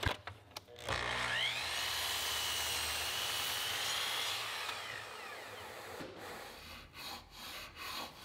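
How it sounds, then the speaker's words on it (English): A piece of wood for a Shaker bench reproduction is cut about three quarters of an inch in, giving a steady, loud whining cut lasting several seconds after a few opening clicks, then tapering off into quieter handling noises. "Now I'll cut this piece off about 3/4 of an inch in"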